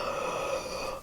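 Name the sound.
deep inhalation during vocal yawning exercise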